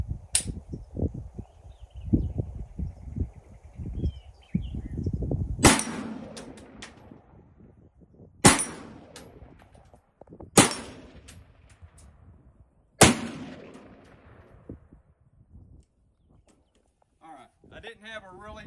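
.223 rifle rounds striking an AR500 steel popup target outdoors: four loud, sharp cracks spaced a few seconds apart, each with a trailing ring, after a stretch of talking.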